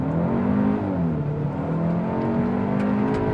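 A 2025 Hyundai Elantra N-Line launching hard from a standstill with traction control limited, its engine note loud and close and rising steadily for a few seconds with no talk over it.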